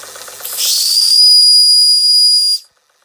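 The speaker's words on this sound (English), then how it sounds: "A bit of a whistle." Steam whistle on a Fleischmann 135/2 model steam engine blows one loud, sustained, shrill hiss-whistle lasting about two seconds, then stops abruptly and leaves silence.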